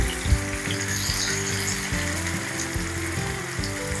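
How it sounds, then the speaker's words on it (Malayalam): Elephant foot yam pieces deep-fry in oil for Kerala chena upperi, giving a dense, continuous crackling sizzle at moderate, steady loudness with small pops, and no one talking. "രണ്ടായിട്ടിട്ട് നമുക്ക് വറുത്തെടുക്കാം."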